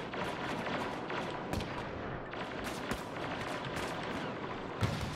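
Rapid bursts of gunfire trade across the middle of the map in a competitive video game match, sharp repeated shots and cracks over a dense, steady battle din at moderate level.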